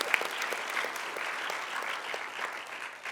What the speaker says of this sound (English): Please give Alyssa a round of applause.